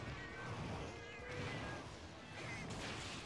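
Cat companion in Monster Hunter Generations Ultimate meowing repeatedly over a busy game soundscape, the calls rising clearly above steady background action.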